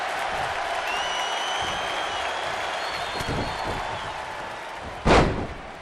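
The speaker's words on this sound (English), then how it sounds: "The roar of this crowd has been building, and they are at a fever pitch right now" Loud arena crowd roaring continuously in a WWE 2K20 wrestling match, a steady dense cheer with a sharp thud or slam near the end.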